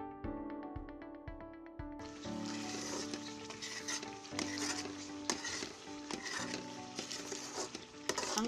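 Turmeric salabat mixture cooks in a pan as a spoon stirs it, giving soft scraping and light sizzling with irregular knocks against the pan; a tonal ringing opens the passage before the stirring takes over, fairly quiet overall.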